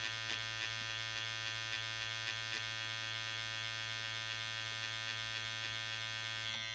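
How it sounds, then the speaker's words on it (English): A permanent makeup needle machine buzzes steadily during powder brow work, a close constant electric hum with bright harmonic whine and faint clicks, without speech. "lower and quickly pushing the needle very fast"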